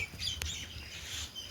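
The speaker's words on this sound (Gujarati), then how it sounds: "તો અત્યારે જો બધા પક્ષીઓ બોલે છે." Birds chirp around a village farm field after rain, a few faint, thin tweets and one sharp squawk over quiet rural background, with no voices.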